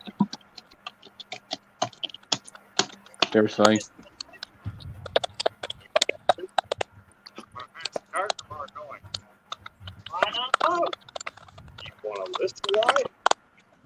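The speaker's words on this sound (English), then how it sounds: "someone's typing in like mad here." Rapid, irregular clicking of computer keyboard keys runs throughout, with brief bursts of nearby talking and a few quacky vocal sounds between the keystrokes.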